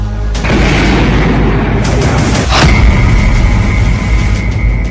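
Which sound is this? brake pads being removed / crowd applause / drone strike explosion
drone strike explosion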